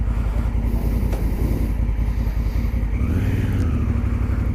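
A Honda Africa Twin motorcycle rides steadily with a continuous low engine drone and wind rush, the engine note rising briefly near the end.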